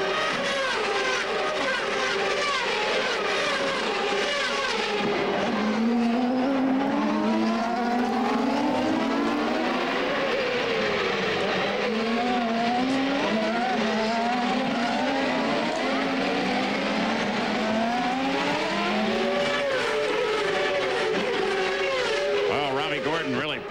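CART race cars at the 1999 Honda Indy 300 in Australia scream through corners, loud engine notes rising and falling as several cars pass in succession, with a commentator talking over the continuous roar.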